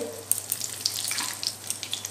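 Crushed cardamom and a little cumin fry in hot oil with a bright, close sizzle and scattered small pops and spits. It is continuous and moderately loud, with no voices.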